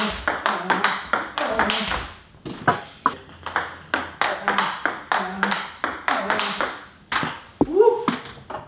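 Table tennis ball striking a Tenkaisei Ginga short-pimple rubber paddle in a steady rally, crisp ringing pings repeating roughly twice a second, close and loud, with occasional voices between hits.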